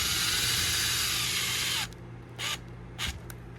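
Power driver sends a screw into an airsoft gun during installation, a loud continuous whirring for nearly two seconds, followed by two short bursts as the screw is snugged.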